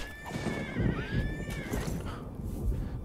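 Horse in The Elder Scrolls IV: Oblivion gives a wavering neigh while its hooves clip-clop steadily underneath, near and clear with no talking.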